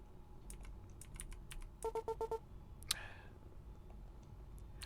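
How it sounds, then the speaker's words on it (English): Short burst of keystrokes on a computer keyboard entering a command in Buddy Simulator 1984, a quick run of about five evenly spaced taps, faint against quiet game sounds, with a brief electronic chime right after. "I'm gonna type in proceed."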